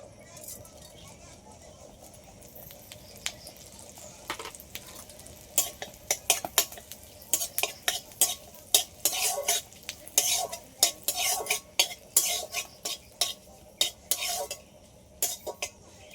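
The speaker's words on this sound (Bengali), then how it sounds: "মৌরিটা একটু হালকা করে ভেজে নিচ্ছি" Fennel seeds frying lightly in melted butter in a pan for mango flattened-rice pulao, with a soft sizzle under sharp, irregular clinks and scrapes of a spoon stirring, growing busier in the second half; a voice talks quietly.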